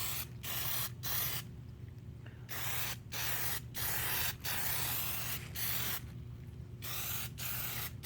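Spray can coating a car grille with Plasti Dip, a series of close, loud hissing bursts of varying length separated by short pauses, with no talking.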